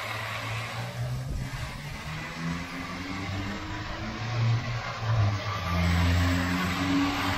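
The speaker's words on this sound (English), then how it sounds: "That's full throttle the whole way." A cheap Nissan GTR RC drift car runs at full throttle on a LiPo battery, its small motor whining and revving steadily. The sound swells louder toward the end as the car passes close.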